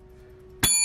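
A single bright bell ring sounds after a brief quiet lull while scratch-off lottery tickets are played, the ring hanging on with a clear sustained tone.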